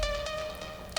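A filtered synth lead melody from an electronic track holds a bright sustained note with soft rhythmic accents, fairly quiet and unaccompanied by speech.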